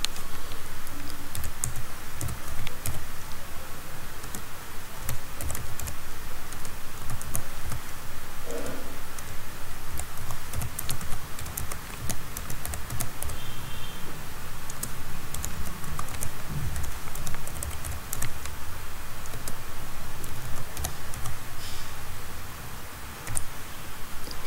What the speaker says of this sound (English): Now type the command to set up network.